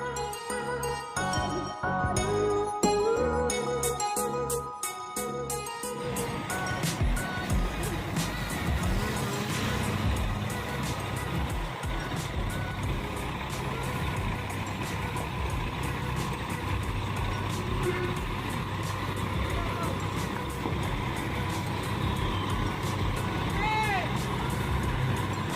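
Litha night bus on the road from Makassar to Toraja, with a steady rumbling engine and road noise throughout, busy music and voices in the first few seconds, then a continuous drone with faint beeps under occasional talk.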